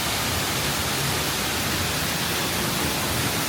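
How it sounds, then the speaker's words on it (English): A waterfall at Disney's Animal Kingdom pours in a steady, broad rushing hiss, loud and continuous with no voices over it. "a waterfall right here."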